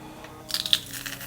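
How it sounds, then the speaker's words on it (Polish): Garlic cloves crushed in a garlic press: a short burst of crunchy, crackling squeezes, several quick pops close up, then fading; no talking. "Przeciskam parę ząbków czosnku."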